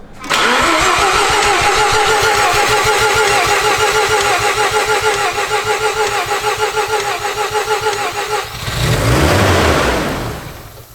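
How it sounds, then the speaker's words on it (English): A Series 5 Mazda RX-7 FC3S rotary engine that is not getting fuel cranks loudly on the starter with a rapid, even rhythmic chug for about eight seconds, then catches in a brief rising rev before dying away, with no talking. "It's not getting fuel, but it's gonna start."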